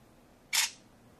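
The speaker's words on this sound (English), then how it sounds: "You can either use the trackball to take the picture" Camera phone shutter sound as a picture is taken: a single short, bright click-burst, close and fairly loud, with near silence around it and no talk.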